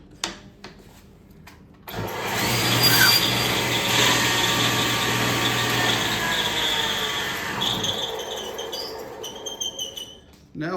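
A table saw cuts a test piece for a segmented wood bowl, a loud steady blade whine running about six seconds after a short spin-up, then winding down with small clatters of handling.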